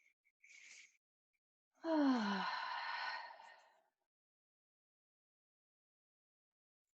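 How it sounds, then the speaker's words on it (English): A single slow, deep breath taken close by: a long audible inhale, then a gentle exhale that fades out over a couple of seconds, with silence around it and no talking. "I invite you to take a deep breath with me"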